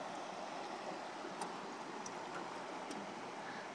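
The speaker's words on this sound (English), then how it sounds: "I'm going to take you right up the river now." A boat moving up the Tugalo River on the Georgia–South Carolina line, with a steady broadband rush of flowing water and engine wash and a few faint clicks on top, no voices.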